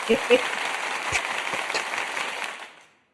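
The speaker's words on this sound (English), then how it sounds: "This is the first time I get to do the applause for my guests" A short canned applause effect played during a livestream, a soft patter of clapping that fades out completely near the end, with brief voice sounds at the start.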